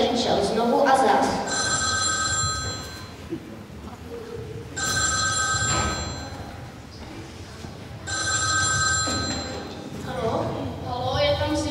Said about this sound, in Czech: telefon drčel znovu a zas